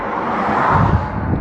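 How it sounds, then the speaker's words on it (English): A car passing on a roadside in New Mexico, a broad rumbling swell that rises toward the middle and fades, mixed with wind buffeting the microphone. "noisy cars"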